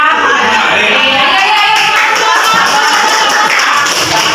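Loud, dense clapping from a group of high school students, fast and continuous in a clapping chant, with a busy crowded quality and some voices mixed in.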